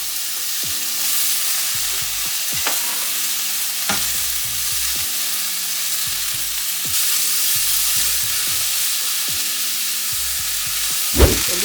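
Tomato and onion stir-fry in a pan with a loud, steady sizzle close by, punctuated by repeated scraping stirs and a sharp clack near the end, with no talking.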